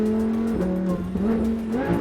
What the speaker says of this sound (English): Downshifts happen so fast you can even make a song out of it.